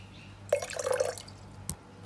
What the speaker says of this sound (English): Tip that back out because I want more vodka.